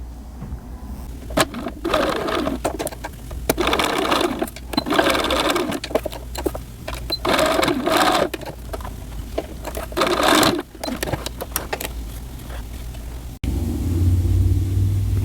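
A sewing machine stitches a fabric seam on children's shorts at a quarter inch, running in a long loud whirring burst with brief pauses and restarts, close up, before a sudden cut to a lower hum.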